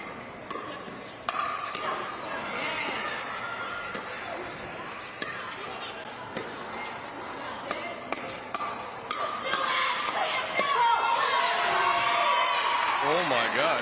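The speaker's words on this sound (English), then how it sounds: "Oh my gosh, the crowd is like yelling in the middle" Crowd noise rises and yells mid-rally at a professional women's doubles pickleball match, under sharp repeated paddle pops and ball taps, with commentators talking throughout and the crowd growing louder near the end.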